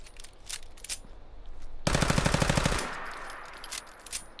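Rapid automatic gunfire from a weapon in Fallout 4, a loud close burst of evenly spaced shots lasting about a second, set against quieter game ambience with a faint high tone.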